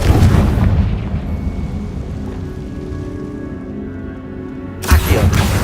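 A fire-blast spell explodes in Hogwarts Legacy, opening with a heavy rumbling burst that decays into a lingering low roar, then a second loud boom strikes near the end.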